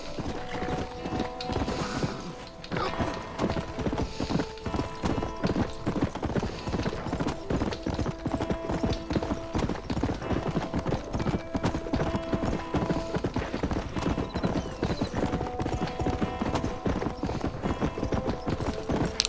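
Horse hooves clip-clop steadily in Red Dead Redemption, a continuous rhythmic trot close by and fairly loud over game ambience and music, with an occasional whinny.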